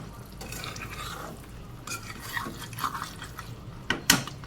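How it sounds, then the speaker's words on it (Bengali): A little water goes into a curry in a pan while making sesame chicken, bringing soft splashes, drips and stirring with a few sharper clinks near the end, heard fairly close and quiet. "আচ্ছা একটু জল দিয়ে দিই তার এইটুকু জল দিয়ে দিলাম"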